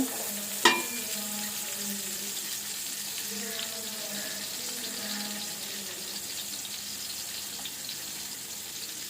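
Steady frying sizzle fills the clip, with a sharp clink near the start and faint scraping as raisins are stirred in a pan.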